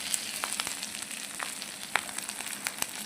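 Green chillies go into a pan of frying fish curry with mustard paste, producing a soft continuous sizzle dotted with sharp little crackles and pops close by.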